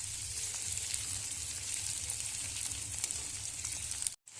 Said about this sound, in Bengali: পেঁয়াজ আর রসুনটা ভেজে নেবো, তাকে তেলের উপরে দিয়ে দিচ্ছি।